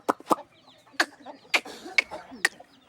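Chickens cluck close by as grain is brought to them, half a dozen short, sharp clucks scattered irregularly over a few seconds with little else around.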